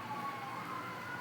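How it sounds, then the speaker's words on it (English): Emergency vehicle sirens outdoors, a faint, distant wailing tone holding steady through a brief stretch under a dull background hum. "And now we've got big old sirens."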